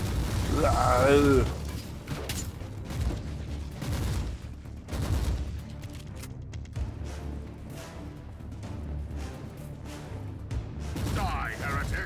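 Stun frag mines explode and gunfire rattles in Warhammer 40,000: Inquisitor – Martyr. Repeated booming blasts and bursts of shots are mixed with game voice lines and a brief shout.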